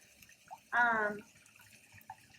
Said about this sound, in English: And now we're going to add in 3½ cups of water.